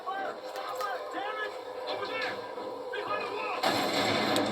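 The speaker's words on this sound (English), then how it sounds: "Also there's an explosion going off there." Explosion in the video game Tomb Raider Definitive Edition, a broad burst near the end that swells over continuous gunfire and battle noise, with game voices running underneath throughout.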